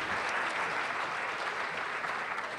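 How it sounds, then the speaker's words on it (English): Applause from a seated audience honoring a panel of speakers at a Los Angeles design discussion, steady and sustained throughout, with no speech over it. "Give them another round of applause."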